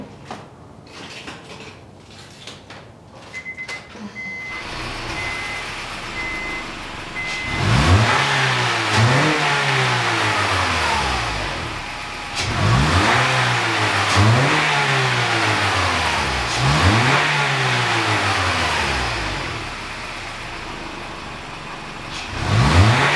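A truck engine with its stock muffler fires up and runs, then revs hard in repeated rising and falling bursts, loud and close with no talking.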